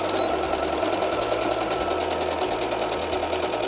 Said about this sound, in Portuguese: Agora vamos para a máquina de costura costurar o nosso corpinho.